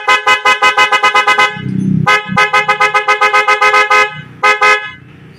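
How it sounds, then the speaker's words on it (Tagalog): The stock horn on a Yamaha NMAX motorcycle, working with the engine off, blares in a loud run of rapid short toots, then a second burst of toots and one longer blast, with brief low rumbles between. "Stock na busina, tapos yung kanyang malakas na busina na kanina hindi gumagana pag di maandar."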